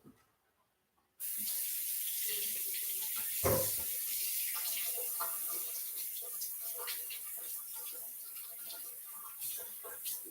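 Tap water runs steadily over produce in a sink, a sudden loud hissing splash that starts after a moment of silence and continues with small shifting splatters as the vegetables are rinsed.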